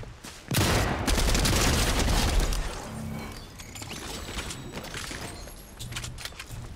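Foundation's MK rifle fired in Fortnite Season 4 build mode: a loud, dense volley of rapid shots for about two seconds, then quieter scattered gunfire and game clatter.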